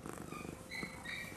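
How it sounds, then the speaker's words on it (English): A tabby cat purrs while being held, a soft, close, steady rumbling pulse in a quiet room, with faint higher tones drifting in the background. "And she's purring."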